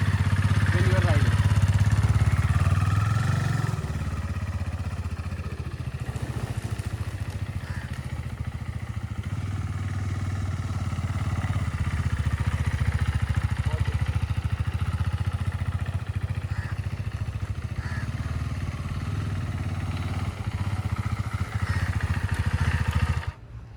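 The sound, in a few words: KTM RC 390 motorcycle engine while riding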